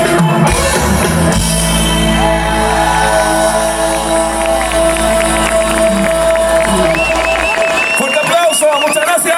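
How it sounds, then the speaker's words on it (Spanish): Audience at a concert cheering and applauding, a loud dense roar of shouts and clapping over sustained music, fading toward the end. "Fuerte aplauso, muchas gracias."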